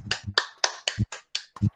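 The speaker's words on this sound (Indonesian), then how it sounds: "Tepuk tangan buat kelompoknya Gading." Classroom applause for a student group: sharp, rhythmic claps in about seven distinct bursts, close and fairly loud, with no talking.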